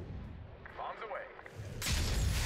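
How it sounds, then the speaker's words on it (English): Bomb explosions in the video game Call of Duty Black Ops 6 erupt as a loud, sustained broadband roar that swells suddenly and rumbles on after quieter, muffled combat noise. "Bombs away."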